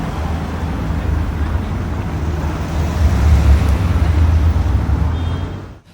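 A Brabus G-Wagon rolls along a London street, a steady low road rumble that swells to its loudest midway and then fades away over busy traffic noise.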